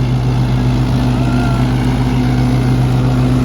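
An old-model Sonalika tractor engine runs continuously up close, a loud, steady low rumble with a throbbing hum and no pauses.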